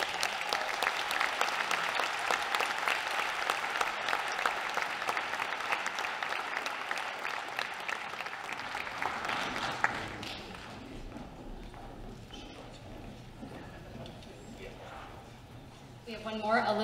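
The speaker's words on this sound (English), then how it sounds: "Give them a round of applause." Sustained audience applause at a senior honors night, steady dense clapping for about ten seconds before thinning into scattered claps and quieter room murmur.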